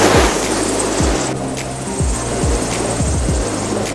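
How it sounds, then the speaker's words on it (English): Strong wind of about 27 knots roars across a sailing yacht with two reefs in the main at sea, a steady loud rushing blast with periodic low thumps of hull or gear, and no voices. "The wind is hitting 27 knots and we are reaching over 8"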